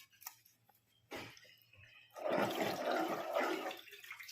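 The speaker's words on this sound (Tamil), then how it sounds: "இதுக்கு வேண்டிய அந்த தண்ணியும் ஊற்றிடலாம்," Water made from onions is poured into a pan of cooking fenugreek leaves for a white methi and peas dish, a steady splashing pour that starts after a couple of faint clinks and keeps running close by.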